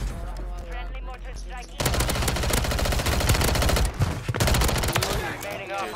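Call of Duty Warzone gameplay with a friendly mortar strike brings dense rapid gunfire and blasts. A voice speaks at the start and game chatter runs underneath.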